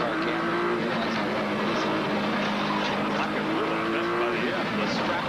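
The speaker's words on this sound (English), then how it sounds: "Geoff Brabham is the fastest ESPN cameraman this weekend. Take us for a ride" A turbocharged Nissan GTP race car is heard from an in-car position at a 1989 IMSA Camel GTP race in Del Mar, a steady loud engine drone with shifting pitch throughout, under a commentator's talk.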